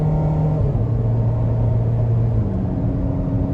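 A 2015 Ferrari California T in sport mode revs hard, a loud, continuous engine roar with deep rumble from inside the car, no voices.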